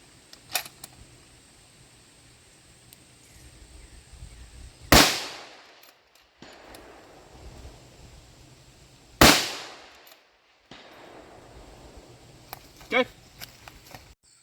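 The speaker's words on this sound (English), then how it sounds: "we shot a couple rounds with kind of a basic setup, right? Aluminum rail, bipod up front." Two sharp precision rifle shots ring out about four seconds apart, each a loud close crack with a brief decaying echo, fired at a 400-yard target from a lightweight chassis on an aluminum rail with a bipod, with quiet background clicks between.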